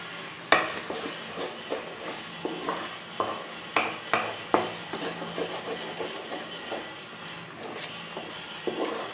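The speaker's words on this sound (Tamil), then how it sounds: "இப்போ இது எல்லாத்தையும் நல்லா மிக்ஸ் பண்ணி விடுங்க. இது லைட்டாக குக் ஆகட்டும்." Fish curry (kulambu) mixture is stirred and lightly cooked in a pan, with a spoon scraping and clacking against the metal in irregular taps over a soft sizzle, close up and with no talking.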